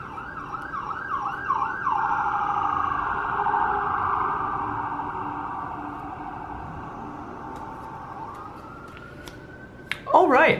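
An emergency vehicle siren wails near a hospital, starting with quick yelping cycles, then settling into a long sustained tone that slowly fades, before a sharp loud clatter close by at the end.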